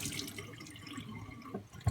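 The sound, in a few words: rinsing knife and water stone under water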